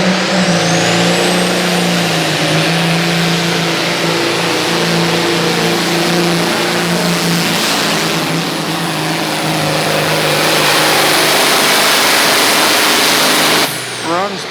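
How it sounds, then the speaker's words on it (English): Peterbilt truck with a Caterpillar engine at a county fair truck pull, droning at a steady, loud, high-revving pitch for about fourteen seconds before cutting off abruptly at the end. "Let's see how this Peterbilt runs."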